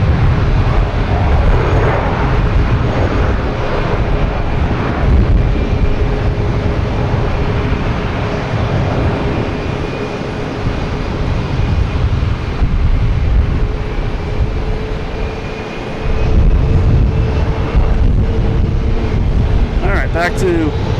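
Airbus A320 airliner at Boston Logan Airport, a steady distant jet roar with wind buffeting the microphone on a gusty day, swelling and easing over time, with a voice talking at moments.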